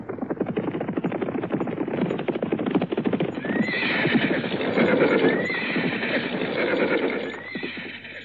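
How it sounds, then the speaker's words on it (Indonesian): A group of horses carrying riders approaches with steady clip-clopping hooves and repeated whinnies, loud and near, growing fuller midway before easing slightly at the end. "Ada rombongan orang berkuda."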